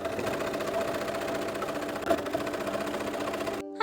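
A sewing machine stitches the seam of a jester-style ruffle cloak, its steady whirring motor running continuously and close by for several seconds before stopping abruptly.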